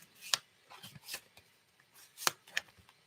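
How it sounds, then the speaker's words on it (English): A deck of playing cards being shuffled in a quiet room, with a few crisp riffling bursts and softer rubbing rustles spaced irregularly over a few seconds, close and fairly faint. "I'll just shuffle these for a bit."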